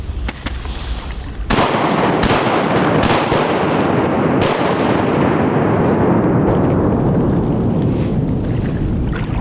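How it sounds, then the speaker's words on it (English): Shotgun blasts during a duck hunt over decoys on water: four or five sharp, loud reports come in quick succession, and a continuous broadband roar of wind or boat noise runs underneath them. "Shooting."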